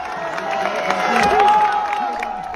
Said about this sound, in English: fans thunderously cheer them on